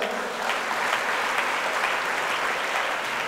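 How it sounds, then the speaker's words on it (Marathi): Steady, dense applause from an audience at a birthday felicitation ceremony, a continuous wash of many hands clapping at even loudness throughout, with no voices breaking through. "जोरदार टाळ्या होऊ द्या"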